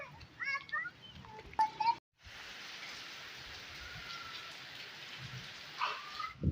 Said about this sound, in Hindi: बहुत बरसात आज हो रही है।